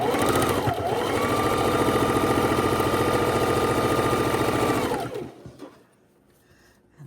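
A sewing machine stitches quilt pieces together in one steady, fast run of needle chatter and motor hum lasting about five seconds, then stops abruptly, leaving a quiet room.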